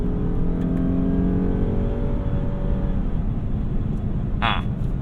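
Engine of a 2015 Lexus GS350 F Sport pulling under acceleration with piped-in induction noise, a steady rising drone with tonal harmonics inside the cabin, loud and continuous.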